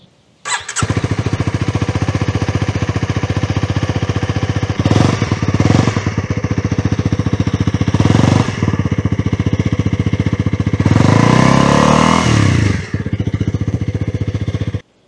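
Honda CL250 motorcycle engine running close by, a loud rapid thumping idle broken by several sharp revs, the last and longest near the end before it drops away, with no talk.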